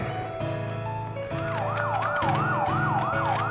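A fire engine siren wails in a steady rising-and-falling two-tone cycle, repeating quickly and moderately loud outdoors, drowning out faint background chatter as it passes.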